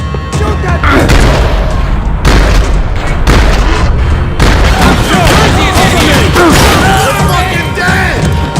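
Loud, dense gunfire and heavy booming explosions in the video game Max Payne 3, a chaotic, continuous barrage with crashing impacts and brief gaps, shouted voices buried in the din.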